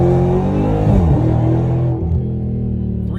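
A Dodge Demon 170 launching from a standstill in second gear on the street, a loud close engine roar climbing and dropping in pitch through the pull, then settling into a steady heavy drone.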